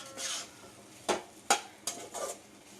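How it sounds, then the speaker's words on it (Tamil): A spoon scrapes and knocks against a pan while fried chicken is mixed in, giving a few sharp clinks and soft scraping strokes. The sounds are quiet and nearby, with no talking. "சிக்கன் போட்டு இதை நல்லா நம்ம மிக்ஸ் பண்ணி விடணும்."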